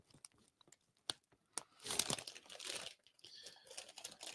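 A snack bag of regular-size crunchy Cheetos crinkles, with sharp crunching and rustling bursts close by, loud against a quiet room and with no talking.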